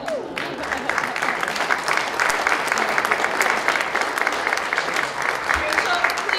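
Audience applause for the winners of a portrait unveiling at an indoor ceremony: sustained, dense clapping from a crowd with a voice speaking over it.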